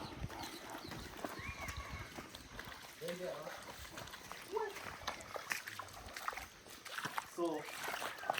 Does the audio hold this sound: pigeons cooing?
no